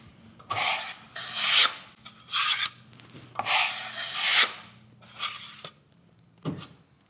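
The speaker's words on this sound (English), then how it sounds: "As you're applying the compound, use a cross-hatching motion." A trowel spreads plaster compound over a plasterboard hole repair in cross-hatching strokes, giving loud, close rasping scrapes in uneven bursts with short gaps between, no talking.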